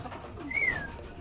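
A single soft pigeon coo rises and falls briefly against a quiet outdoor background, close by and alone, from a loft of racing pigeons.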